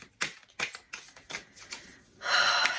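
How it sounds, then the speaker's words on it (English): A deck of cards being shuffled in several quick riffled bursts, ending in a longer, denser flutter of cards; close and fairly quiet, with no talking. "They still want me to shuffle. They're like, we're still going to shuffle."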